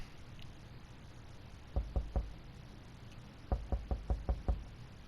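Knocking on a door in the video game 60 Seconds! Reatomized: two bursts of sharp knocks, first three quick raps, then after a pause a faster run of about six, fairly close over a quiet hum.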